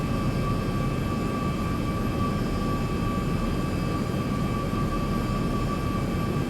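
Steady, loud airplane engine roar from the X-Plane flight simulator on a CYOW to CYYZ flight, a continuous broadband drone with a faint tonal whine, no voices.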